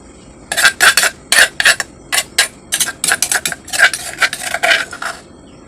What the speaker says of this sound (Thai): คนให้พริกเกงออก กัน เดี๋ยวมันจะเป็นก้อน